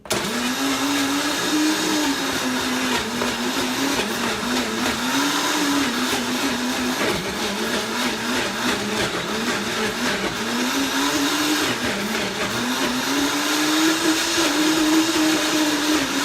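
A blender making a strawberry cheesecake smoothie roars steadily and loudly for the whole stretch, its motor pitch wavering up and down as the contents churn, with no talking.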